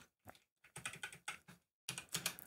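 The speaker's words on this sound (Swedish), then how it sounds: "trycker på enter" Several keys are tapped on a computer keyboard, including the Enter key, in short clustered bursts of crisp clicks separated by brief silences, close and fairly quiet.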